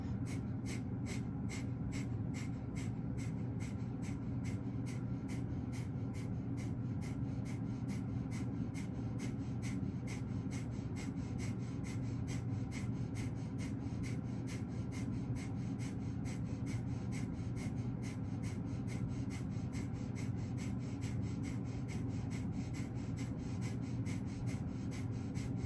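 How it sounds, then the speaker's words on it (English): Rapid, steady breath-of-fire breathing through the nose, with a passive inhale and a forceful exhale, repeats as fast, even, rhythmic puffs for the whole stretch. The breaths are close but faint, with no talking. "It's all going through the nose, passive inhale, forceful exhale."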